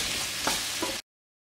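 Onions, peppers and potatoes sizzle and fry in a pan, a close, steady crackle with a couple of soft stirring scrapes before it cuts off.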